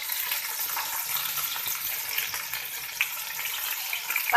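Water poured into a hot pan of oil and ginger garlic paste gives a loud, steady hissing sizzle that continues throughout without talk.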